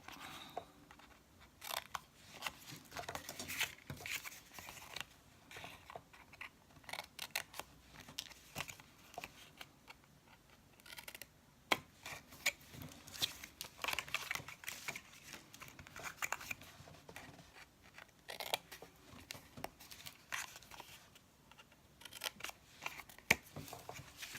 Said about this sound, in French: on va couper, alors toujours encore en biais, hein, comme on a fait de l'autre côté, les toutes petites languettes qui sont là